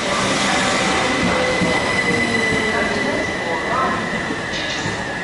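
A passenger train on its way to London rumbles along the rails, heard from inside the carriage, with loud wheel squeal and steady track noise. Voices talk faintly underneath.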